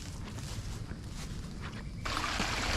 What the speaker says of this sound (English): You hear it? Water coming right through both catch basins.